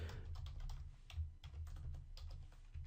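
Keys clatter steadily on a computer keyboard as jQuery code is typed, a close, continuous run of quick taps with no talking.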